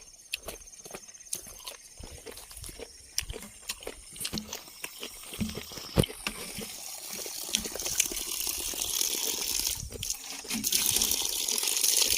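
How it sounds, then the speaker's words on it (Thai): Water scooped by hand from a forest stream in rural Laos, with splashing and sloshing that grows steadily louder toward the end, mixed with scattered clicks and knocks. "ไปตักน้ำก่อน"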